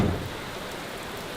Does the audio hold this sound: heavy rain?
yes